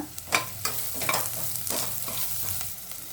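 Grated coconut and a spoonful or two of poppy seeds frying in a pan for a masala, a soft sizzle broken by rhythmic stirring scrapes, close and moderately quiet, no talking.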